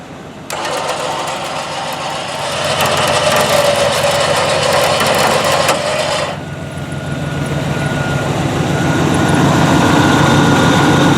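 A Warn winch on a recovery vehicle spools its cable in with a loud steady mechanical whir for about six seconds, then cuts off, leaving a rumbling engine idle.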